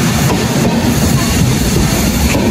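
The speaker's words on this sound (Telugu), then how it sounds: "మొత్తానికి కిందకి నా ప్లాట్ఫామ్ దగ్గరికి వెళ్ళే లోపు కరెక్ట్ గా ట్రైన్ వచ్చింది." A train pulls in at a station platform in Hyderabad, with a steady loud rumble of rolling railcars and wheels clattering over the rails throughout, near and continuous with no talk.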